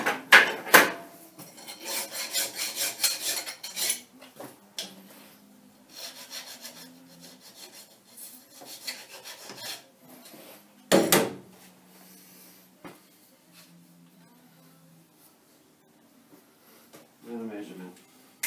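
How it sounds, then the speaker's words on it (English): Hand deburring of a machined metal part: intermittent scraping and rubbing strokes in short bursts, close by, with quiet gaps and soft handling knocks between them. "another quick deburr"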